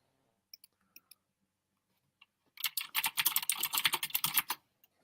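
Computer keyboard typing starts with a few isolated key clicks, then becomes a quick burst of close, crisp clacking for about two seconds.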